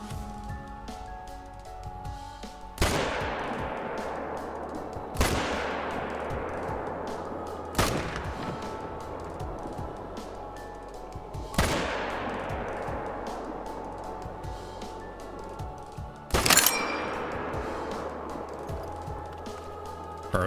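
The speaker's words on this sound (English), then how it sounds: "We'll start shooting." Rifle shots ring out while hunting gray wolves in the video game Call of the Wild: five loud, separate reports spaced several seconds apart, each with a trailing echo over a quiet outdoor ambience.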